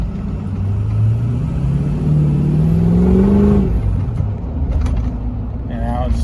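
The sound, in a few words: car engine idle dropping and rising again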